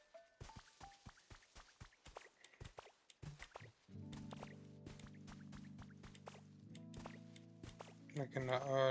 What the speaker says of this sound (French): Redonner vie à 10 arbres desséchés en utilisant pistolet à eau.